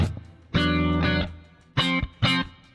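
Clean electric guitar played through a Nembrini Audio Jazz Chorus amp sim rings out in three short chords, a sustained one followed by two brief stabs, clear and upfront with nothing else playing.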